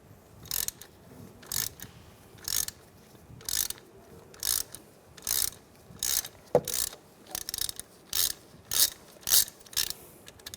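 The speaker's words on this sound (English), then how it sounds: "Use a 5mm hex socket to get the bolt out. Loosen that up." A ratchet fitted with a 5mm hex socket loosens the wheel speed sensor bolt on a 2007-2013 Mini Cooper front hub, giving short, close bursts of clicking repeated in a steady rhythm, about fifteen times.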